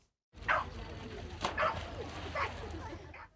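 Dogs bark and yip at an outdoor country fair with a dog show and dog water-jumping, a few barks rising over crowd bustle and voices.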